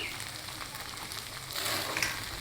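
Noodles with egg cooking in a pan, giving a steady close sizzle and frying hiss that swells slightly near the end.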